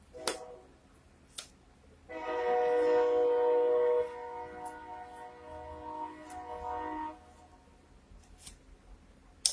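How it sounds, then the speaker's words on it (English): Passing train sounds a long, steady multi-tone horn lasting about two seconds, then a fainter sustained tone that fades away, with scattered sharp clicks close by. "There's the train."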